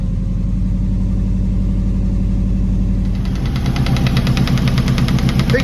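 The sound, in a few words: old car engine running after being started up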